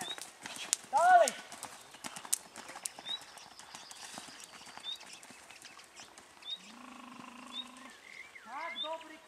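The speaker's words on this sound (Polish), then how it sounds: "Ładne zagalopowanie!" A horse gallops during a riding training session, its steady clip-clop of hooves rolling close by on the ground, with some whistle-like calls and distant voices mixed in.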